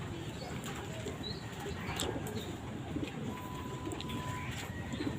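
Pigeon-like birds coo softly outside near a loft, their low calls faint and intermittent over a steady background hiss, with occasional light chirps and a brief thin tone.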